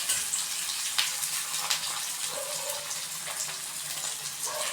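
Chopped green chilies sizzle in a pan for rava upma, a dense steady hiss that stays even and close throughout, with a couple of faint clicks from stirring.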